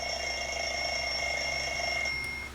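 An Onn clock radio gives a steady electronic alarm tone that rings continuously with a high, buzzing pitch, loud and close, then cuts off near the end.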